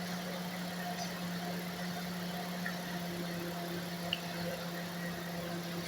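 A 2003 BMW 325i engine idles steadily during an injector power balance test, a constant low hum with a faint even drone and no talk over it.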